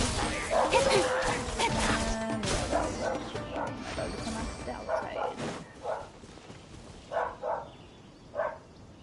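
A pet dog barks and yips in the background of a home game-streaming setup, several short barks and whimpers repeating toward the end alongside game sounds and talk.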